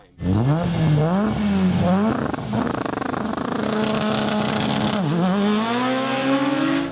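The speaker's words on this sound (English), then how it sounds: "I'm just waiting for the car racing" Race cars roar loudly up close, engines climbing through gear changes as they accelerate, with a sustained high-revving whine.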